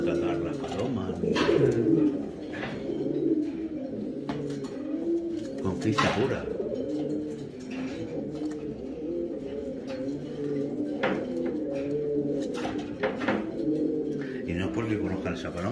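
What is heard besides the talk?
wild pigeons cooing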